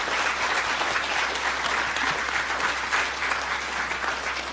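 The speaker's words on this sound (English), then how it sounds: "A big round of applause for our panellists and our plenary speakers." An audience at a global health event applauds panellists and plenary speakers, dense and sustained, with steady clapping throughout and no talking.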